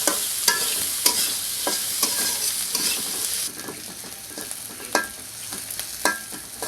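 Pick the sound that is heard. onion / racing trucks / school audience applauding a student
onion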